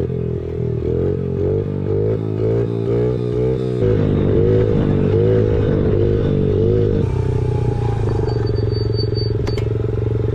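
Dirt bike engine on a family desert trip, close and loud, warbling and revving unevenly as a child rider pulls away, then settling into a steadier buzzing drone.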